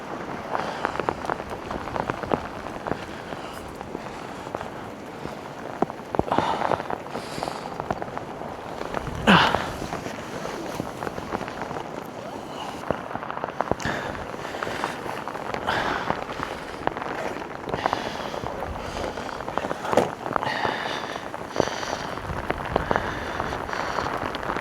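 Heavy rain pours steadily onto a campsite in strong wind, a dense continuous patter of large drops drumming on nearby surfaces, with occasional sharper splats and knocks throughout.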